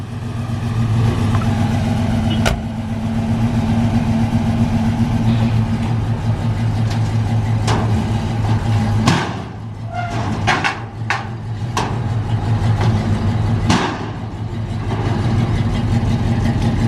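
A 1996 Ford Mustang Cobra, built to about 500 horsepower, idles steadily and close by as it is unloaded from a truck, with a few sharp knocks and clanks breaking through the engine hum.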